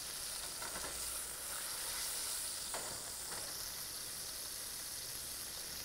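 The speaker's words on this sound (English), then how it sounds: "Searing both sides." Meat sears in a hot pan, giving a steady, faint sizzle and hiss with occasional brief crackles, heard alone without any talking.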